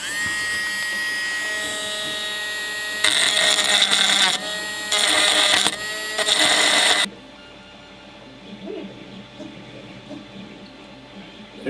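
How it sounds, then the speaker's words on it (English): A small high-pitched rotary tool grinds a small plastic nub flat in three short bursts, then stops, leaving a quiet room with faint sounds. "I'm going to grind that flat"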